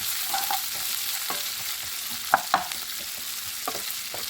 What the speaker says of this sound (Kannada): ಇದೆಲ್ಲ ಫ್ರೈ ಆಗ್ತಾಯಿದೆ.